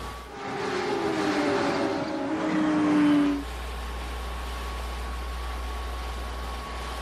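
A Porsche 911 sports car drives with a loud, rising engine note for about three seconds, then settles into a steady, lower hum.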